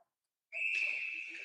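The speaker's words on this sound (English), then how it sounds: "Icing and the whistle blows with" A referee's whistle blown for icing during a high school ice hockey game: one sharp, shrill blast that starts abruptly after a moment of silence and holds for about a second, fairly close, with faint arena noise beneath.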